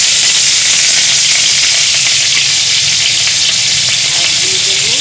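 Crushed green chillies, dry red chillies and bay leaf sizzle and spatter in hot oil on a gas stove for a Bengali fish curry, loud continuous frying hiss close up with no talk.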